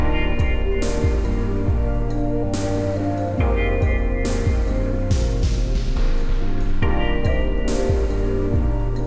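A self-made music beat plays back with punchy, repeating drum hits and layered bass and melodic parts in a steady loop, with no talking over it.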